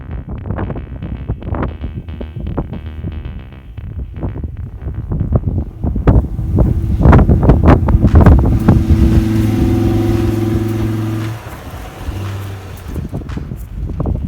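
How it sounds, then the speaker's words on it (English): Strong gusty wind buffets the camera microphone outdoors during an overland truck build hill climb, a loud continuous roar that swells in the middle and then eases, with engine rumble underneath. "Sorry about the wind, by the way. It was mega windy that day."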